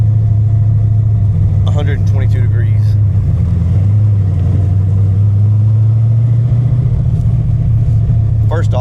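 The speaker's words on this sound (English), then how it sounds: "Any of those little stutters that you hear are from the camshaft." A car with a lopey solid roller camshaft idles loud and close, a deep uneven rumble that stutters and dips throughout, while someone talks over it.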